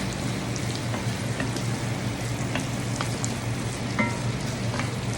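Small-diced carrots fry in a pan with a soft, steady sizzle and occasional light pops and crackles, heard up close with no talking.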